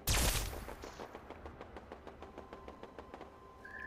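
One loud gunshot fired with poison ammo in Fallout 76 cracks up close at the start, followed by a quick run of fainter, regular clicking impacts that fade out.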